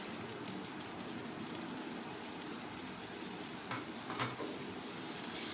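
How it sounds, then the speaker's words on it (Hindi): Boiled peas and potatoes fry with chicken in a pan, giving a soft, steady sizzle like light rain, with a couple of brief scraping stirs near the end. "इसको हम चंद सेकंड के लिए फ्राई करेंगे"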